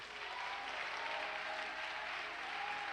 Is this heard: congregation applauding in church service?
yes